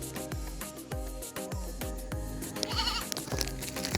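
Wavering goat bleats rise over a thumping, rhythmic music track with a steady beat.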